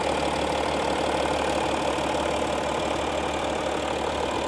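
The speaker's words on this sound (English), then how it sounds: "Let's listen to the engine sounds." A 2015 Audi SQ5 3.0 TDI Quattro diesel engine idles with the hood open, a steady, even clattering hum heard up close with no talking.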